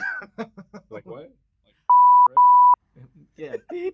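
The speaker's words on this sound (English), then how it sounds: "I'll just bleep it out, but I say, so that's just gonna sound like beep beep." Two loud, steady electronic censor bleeps, one short and one longer, cover swear words in an interview about a Jersey Boys production, set between stretches of speech before and after.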